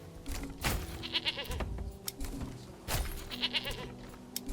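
Several goats in the video game Manor Lords bleat in short, overlapping calls, a few loud cries standing out against softer background bleats.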